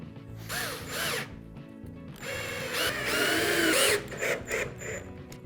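A power drill drives screws into a wooden birdhouse, its motor whirring in short bursts and then in one longer sustained run, close and fairly loud with ratcheting mechanical tones.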